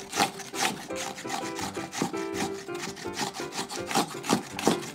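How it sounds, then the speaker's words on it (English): Daikon radish rubbed on a coarse Japanese onioroshi grater for grated daikon and pork hot pot, a steady run of rhythmic rasping strokes, close and fairly loud, with no voices. "This is called onioroshi, which can coarsely grate the daikon."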